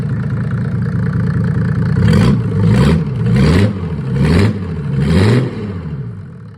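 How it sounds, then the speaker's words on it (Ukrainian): Mercedes OM603 3.0-litre diesel engine running close by, a steady idle followed by four rhythmic revs that rise and fall about once a second before settling back down. "Блін, класний мотор. Мягенько робить. Дуже мягенько робить взагалі."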